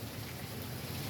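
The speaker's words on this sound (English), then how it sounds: "here comes some more rain, y'all. Can you hear it?" Heavy, steady downpour of rain heard from outside on a porch, a dense continuous hiss with a deep rumbling undertone, loud and unbroken throughout with no voices.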